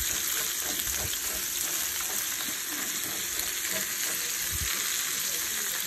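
Food fries in one crowded pan, producing a steady, close sizzle with occasional stirring clicks that runs throughout without pause.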